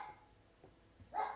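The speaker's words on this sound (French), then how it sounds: "Désolée pour les aboiements." A small female dog named Rubinette gives a short, faint bark indoors, a single quick yip at the end after near silence.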